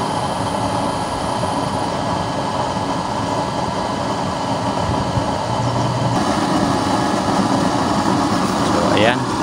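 A preheated waste motor oil stove burner with a nozzle chamber burns with a blue flame, giving a steady, close, broadband roar that holds for the whole stretch.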